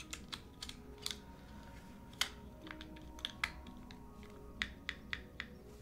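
Typing on a rebuilt QK75 mechanical keyboard, a steady run of crisp, close key clacks at an uneven rhythm with one louder thock, over a low room hum.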